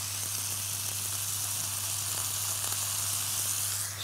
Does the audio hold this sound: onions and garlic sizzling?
yes